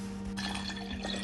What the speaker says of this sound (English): And now I'm just pouring it as I did the first time